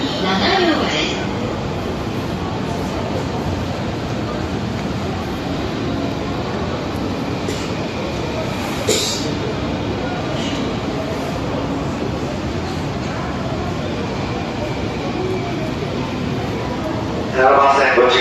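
A JR East 651 series 1000-number limited express Kusatsu train pulls into a station platform bound for Ueno, a steady loud rumble of wheels and motors running throughout with station announcements over it.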